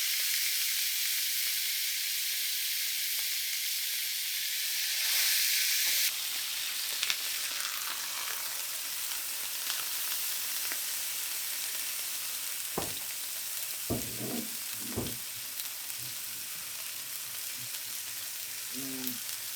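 A smashed burger patty sizzles loudly on a hot griddle, a dense steady frying hiss up close, with a few scraping knocks from a spatula or smasher and no talking.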